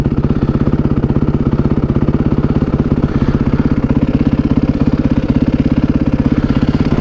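A Yamaha WR450F motorcycle idles close by through an exhaust fitted with a new baffle, a deep, even, rapid thumping pulse that holds steady with no talking.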